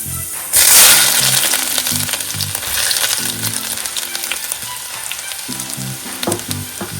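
Ginger drops into hot oil for a lemon pickle and fries in a loud, continuous sizzle that flares up at first, then settles into a steady crackle with light stirring clinks.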